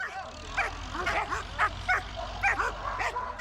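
Training dogs bark and yip in quick bursts during an intruder takedown drill, several dogs close by, with a low rumble beneath.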